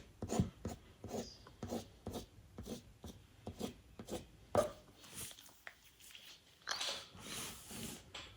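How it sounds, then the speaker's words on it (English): The back of a paintbrush scratches veins into wet paint on a painted chicken artwork, giving a quiet, close series of short, regular scraping strokes followed by a slightly longer rubbing passage near the end, with no talking. "I'm going to just give it a couple of scratches in there."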